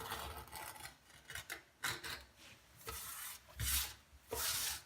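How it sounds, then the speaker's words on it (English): A knife blade scrapes old silicone sealant off a bath in quiet, rasping strokes. The scrapes come in irregular bursts, some rougher and louder than others, with no voices. "remove the blade from the knife and then just go across and remove all of the silicone"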